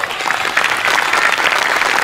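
Audience applause at a Marathi comedy stage show, a dense, steady burst of clapping that stays loud and even from start to finish, with a faint crowd murmur beneath it.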